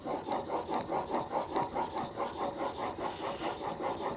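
A blade is sharpened on a 1000 grit stone in steady back-and-forth strokes, a rhythmic rasping scrape repeating about four times a second, close and moderately loud.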